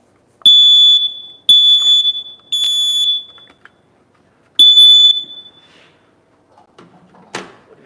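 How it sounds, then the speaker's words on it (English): A smoke alarm being tested at a fire station sounds four shrill, piercing beeps, the first three in quick succession and the fourth after a pause, followed by faint clicks and handling noise. "make sure you test your smoke alarms"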